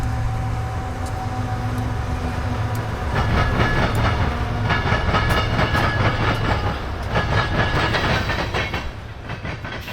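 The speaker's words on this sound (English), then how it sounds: "This loaded BNSF coal train is heading north on the IHB" A heavy loaded coal freight train rolls past nearby, its steady rumble punctuated by rhythmic clicking of wheels over rail joints that grows louder midway.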